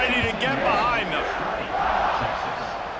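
A roaring stadium crowd in a college football video game, Texas at TCU, swells loudly before a kickoff, a broad sustained cheer under a commentator's voice.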